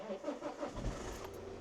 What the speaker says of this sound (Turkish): Hadi bakalım başlayalım marşa.